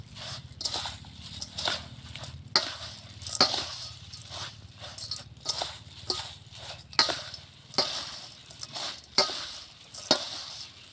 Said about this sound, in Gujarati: હવે આને આપણે સરસ રીતે મિક્સ કરી લઈશું.